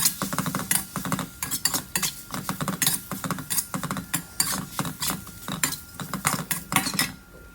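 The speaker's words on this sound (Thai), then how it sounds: "ใส่หมูส่วนที่เหลือลงไปผัดต่อนะฮะ" Pork belly stir-fried with chili in a pan, the utensil scraping and clanking against the metal in a quick, regular rhythm over a low sizzle, close and loud.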